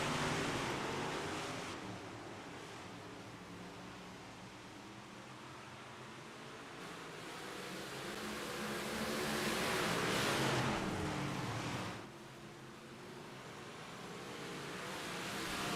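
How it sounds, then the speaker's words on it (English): BRP big block race cars roar past under green flag racing at Volusia, a heavy, continuous engine drone that swells and fades as the pack passes, with no voices. "just listen to these cars go green flag racing"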